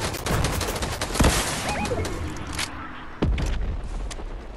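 Rapid video game gunfire crackles almost nonstop, with a few sharper close shots and louder bursts standing out over the dense, busy background of shooting.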